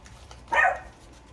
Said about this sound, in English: Don't mind my dog.